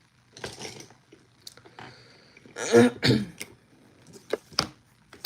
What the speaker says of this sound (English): he doesn't stop coughing